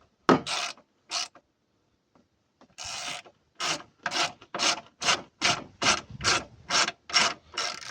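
Ratchet undoing top Torx T30 bolts on a Ford Transit MK7 2.4 TDCi: a few short clicking bursts, a pause, then a steady run of about a dozen rapid ratcheting strokes, close and crisp with no talking.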